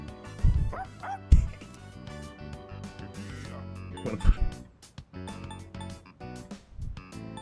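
Koromaru, a dog in the Persona 3 Reload video game, lets out a few scattered yips and soft whimpers over light melodic background music, with brief louder bursts between quieter stretches.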